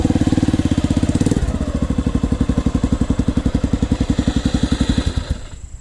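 A Honda TRX 125 ATV engine with a carburetor that needs rebuilding, running close by with a rough, rapid, evenly pulsing putter like an old two-stroke. It shifts slightly in pitch partway through, then cuts off at the end.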